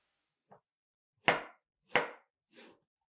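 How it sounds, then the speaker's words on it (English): A knife chops through ginger flower on a cutting board: one light tap followed by three crisp, distinct cuts at a steady pace, close and clear against silence. "Slice only the flower into 5 strips."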